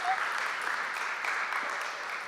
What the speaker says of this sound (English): Maybe a round of applause,